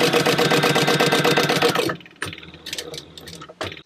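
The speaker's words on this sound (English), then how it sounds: "we're going to go back to the sewing machine and stitch on the top" Sewing machine running fast, stitching along a line on a Fender wallet lining, a steady rapid mechanical chatter for about two seconds, then stopping to leave quieter handling clicks and rustles, with a short final burst of stitching.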